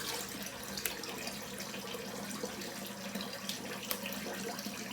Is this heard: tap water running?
yes